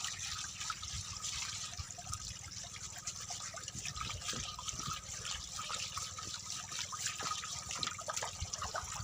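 A fish being washed in stream water outdoors: continuous trickling and splashing water at moderate level, steady throughout with small irregular splashes and no clear speech.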